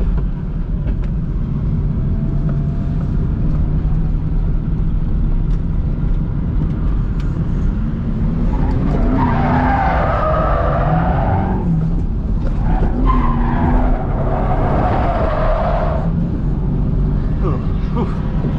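Ford Mustang drift car sliding around a track, its engine roaring steadily while tires skid and squeal in two long bursts midway, with voices talking over the noise throughout.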